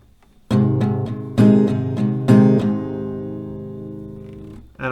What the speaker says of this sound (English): so if we take this G, since that is the first chord, 1 strumming round will sound like this.